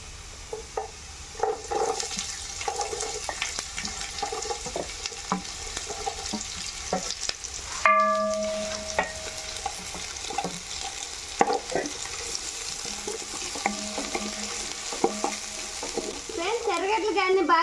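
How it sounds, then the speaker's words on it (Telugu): Onion pieces tossed into fish fried rice frying in a pan, with a continuous sizzle and stirring that sharpens into louder crackling as they go in, followed by ongoing scraping of a spatula. "ఇప్పుడు కట్ చేసి పెట్టుకున్న ఎర్రగడ్డ ముక్కలు అయితే వేస్తున్నా"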